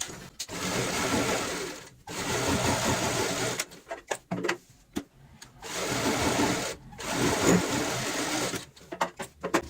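A sewing machine stitching lines across a fabric cushion cover, a close, loud mechanical whirr running in sustained stretches of a couple of seconds, broken by pauses and short stop-start bursts.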